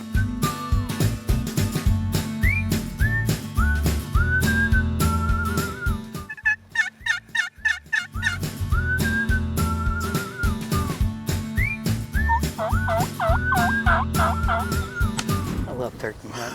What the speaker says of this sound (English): they strutted and they gobbled